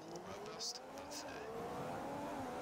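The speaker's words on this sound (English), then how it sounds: "that engine does not sound good." Race car engine in the F1 2015 video game at the Malaysia Grand Prix, a continuous, fairly faint high-pitched whine with rising and falling pitch, brief tire noise, and a voice talking over it.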